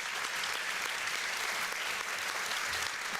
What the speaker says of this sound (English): So, big applause to the panelists here, please.